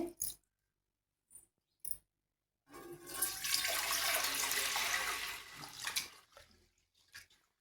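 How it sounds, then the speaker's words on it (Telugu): Soaked rice is rinsed in water for a recipe: a few faint splashes, then several seconds of loud sloshing and pouring that trail off into drips. "మరో ఒక రెండు మూడు సార్లు శుభ్రంగా కడుక్కొని నానబెట్టేసుకుందామండి"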